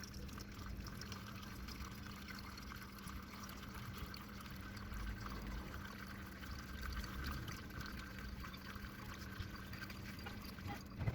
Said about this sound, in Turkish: Geri kalan suyu yavaşça ve dairesel hareketlerle tek seferde dökeceğim.